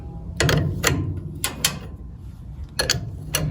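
A wrench works a nut loose on a shock absorber shaft, with a half-inch and a 7/8-inch tool held against each other, making close, repeated ratcheting clicks in short spaced bursts over a low background hum.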